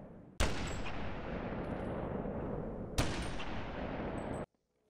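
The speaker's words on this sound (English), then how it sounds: "And of course, the classic Halo sniper." Halo sniper rifle in the Boneworks VR mod, fired twice a few seconds apart. Each shot is a loud, sharp crack that leaves a long, dense rumbling tail before cutting out into silence.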